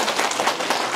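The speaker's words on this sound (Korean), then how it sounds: "이번 사업 일정 마저 해주셔서 박수 좀 부탁드릴게요" An audience claps in a short burst of dense, steady applause at a Korean county governor's briefing on the Geumsan county plan and Boksu-myeon projects.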